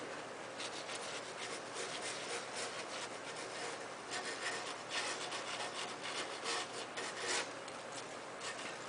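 Sandpaper rubs chalk paint off the corners of a metal bread box in a steady, close rasping scrape that runs the whole time, with brief louder strokes and no talking.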